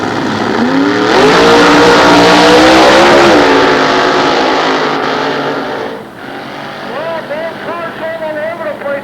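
Two nostalgia drag cars, one a 454 cubic inch Chevrolet, roar off the line at a 1993 Goodguys meet at Sears Point, a loud sustained engine blare that fades after several seconds while an announcer talks over it.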